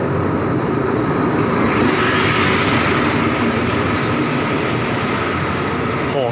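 A cement freight train hauled by locomotive 4206 rumbles past with a loud, steady roar of wheels and wagons, close by and unbroken.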